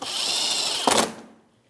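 A power driver spins a screw into the fender liner of a Chevrolet Malibu: a close, steady whine lasting under a second, ending in a brief louder burst as the screw seats, then quiet.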